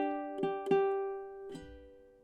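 A few fingerpicked ukulele notes ring into a sustained chord carrying the opening melody of Shenandoah, soft and close, fading out alone.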